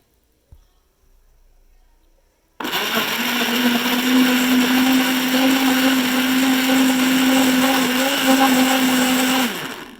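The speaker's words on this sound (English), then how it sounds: "and then I blend until it becomes a smoothie" After a brief silence and a soft click, a kitchen blender roars up loudly and holds a steady whine while blending beetroot and chia seed water into a smoothie, with no talk over it.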